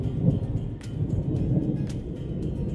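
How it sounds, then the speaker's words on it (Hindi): Low, steady rumble of thunder from heavy summer clouds over a rural Rajasthan setting, a continuous distant roll with a few brief louder cracks, moderately loud and with no speech. "बादल भी बहुत ज़्यादा गरज रहे हैं"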